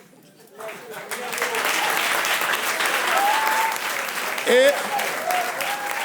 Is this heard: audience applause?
yes